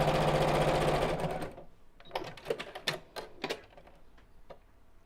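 A sewing machine stitches a fabric biscornu pouch in a loud, continuous run. It then stops and gives way to a series of quieter clicks and handling taps.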